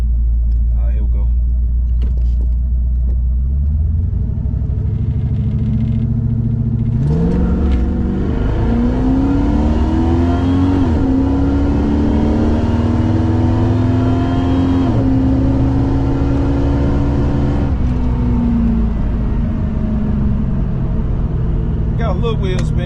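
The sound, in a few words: Buick Regal drag car launching on slicks with slight wheel spin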